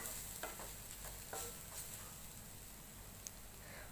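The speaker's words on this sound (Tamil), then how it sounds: "தேங்காய் போட்டு நீங்கள் வந்து ரொம்ப நேரம் வதக்க வேண்டியதில்லை" Grated coconut sautéed in a pan for a vadagam thuvaiyal chutney, heard as a faint, steady sizzle broken by a few soft scrapes of stirring, with no talk.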